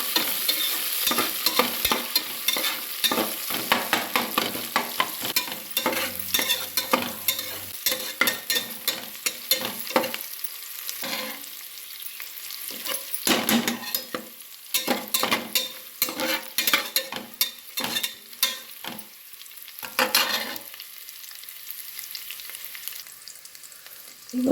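Curry leaves fry in hot oil for upma, a loud crackling sizzle with repeated spoon-stirring scrapes and clatters, bursty and close, easing into quieter spitting toward the end with no voices.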